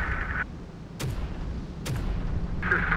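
Howitzer artillery in the strategy game Terminator Dark Fate - Defiance, two sharp booming shots about a second apart over a low rumbling battlefield backdrop.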